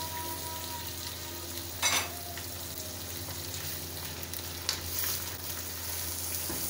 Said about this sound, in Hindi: तीन से चार मिनट के लिए हम इसे चिकन को फ्राई कर लेंगे, कलर इसका चेंज हो जाए।